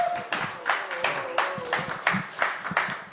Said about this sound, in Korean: 다시 한번 여러분 박수로 한번 격려 좀 해주시죠